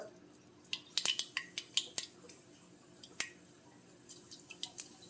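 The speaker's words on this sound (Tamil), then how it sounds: "இப்போ கடுகு உளுத்தம்பருப்பு போட்டுக்கலாம்" Mustard seeds and urad dal sizzle and pop in hot sesame oil, a faint scattering of sharp crackles and spits, quickly at first and then sparser.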